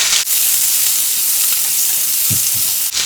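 Onions, green chillies and curry leaves sauté in hot oil, a loud, dense, unbroken sizzle close by, with a few soft stirring thumps and short gaps near the start and end.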